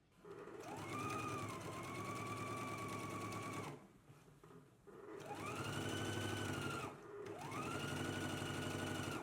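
Sewing machine stitching an elastic casing a quarter inch from the fabric edge, a loud steady mechanical whir with a rapid needle rhythm in three long bursts, separated by short pauses.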